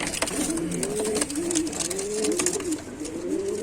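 Pigeons at a loft coo in repeated rising-and-falling calls, steady and close, over a busy background of rustling and faint bird chatter.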